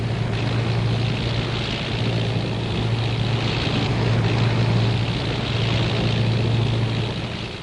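Training aircraft flying and landing, a loud steady propeller-engine drone with slight swells, sustained throughout without talking.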